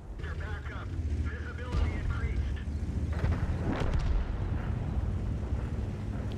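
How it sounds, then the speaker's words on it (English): Tank cannon fire and explosions in World of Tanks on the Lakeville map, a dense rumbling battle din with booming impacts and bursts, heard under continuous talking. "The WZ tries to shoot through the rubble but fails."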